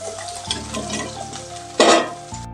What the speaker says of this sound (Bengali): এবার একটু হালকা করে এই সজনে ডাঁটাটা তেলের মধ্যে দিয়ে দিচ্ছি, হালকা করে ভেজে নেব।